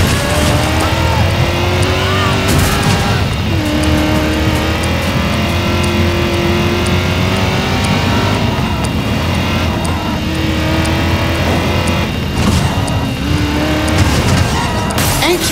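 A car engine roars while driving in Driver San Francisco, loud and continuous with revving pitch shifts and occasional tire squeals under game effects.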